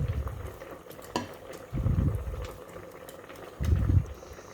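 Water bubbles at a rolling boil in a pot being readied for paneer pulao, with low rumbling surges of bubbling rising in two bursts over a steady simmering background, close and moderately loud.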